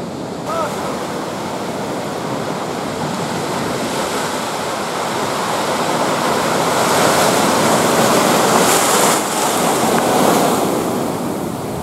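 Rough surf breaking on a beach as the tide comes in near tide pools on a coastal bluff trail, a loud, continuous wash of waves that swells toward the middle, with some wind buffeting the microphone.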